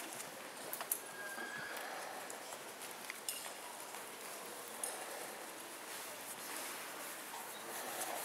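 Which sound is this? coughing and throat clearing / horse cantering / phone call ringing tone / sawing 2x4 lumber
horse cantering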